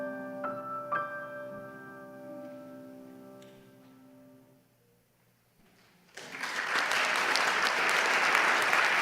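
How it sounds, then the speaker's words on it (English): An audience at a festive Christmas concert at All Saints' Peterborough breaks into loud, sustained applause right after ringing tones fade to near silence, the clapping then filling the hall. "as lovely as the applause is"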